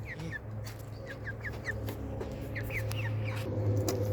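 Hens clucking in a small backyard flock, short repeated calls scattered over a steady low rumble of background noise, with a few clucks near and others farther off.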